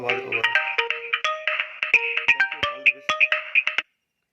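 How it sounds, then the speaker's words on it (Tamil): A phone ringtone plays alone, a bright synthetic melody of rapid pitched tones that is loud and close and stops abruptly after a few seconds. "ஃபோன்ஸ் வந்துகிட்டே இருக்குது"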